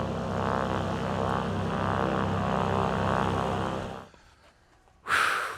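A Piper Saratoga propeller airplane just after landing gives a steady, broad engine drone that cuts away into near quiet, then a short loud burst of noise follows.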